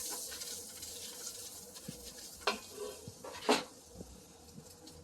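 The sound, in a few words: stirring vegan mac and cheese in a pan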